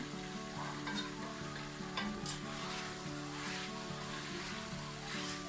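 Potatoes sizzle steadily as they fry in a pan for a Turkish potato dish, with a utensil repeatedly stirring and scraping through them, close and continuous with no talking.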